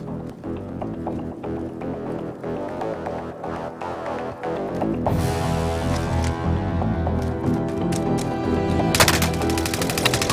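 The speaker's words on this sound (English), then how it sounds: "Down to top 6, gunfire coming in." Bursts of automatic gunfire from Call of Duty: Warzone, rapid rattling volleys that grow denser and louder partway through, sounding dense and close over a steady game soundscape, with no talking.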